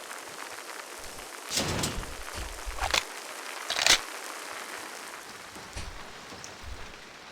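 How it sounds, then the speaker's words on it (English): Rain falling in a tactical shooter video game, a soft steady patter with a few louder gusty bursts and thumps scattered through, no talk. "good raining sounds in video games"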